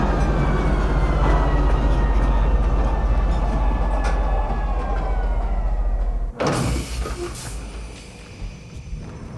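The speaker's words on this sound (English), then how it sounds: "Please watch your step when disembarking the train." A train in the game Star Citizen pulls into Pisa Spaceport with a loud, steady rumble and whine that slows. A sharp door-like clunk follows, then the sound settles into quieter station ambience.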